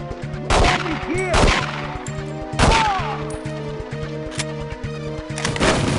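Gunfire in the video game 007: The World Is Not Enough rings out in several sharp, loud bursts of shots over a steady rhythmic game soundtrack.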